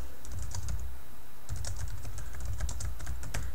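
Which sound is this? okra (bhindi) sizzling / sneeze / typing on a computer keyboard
typing on a computer keyboard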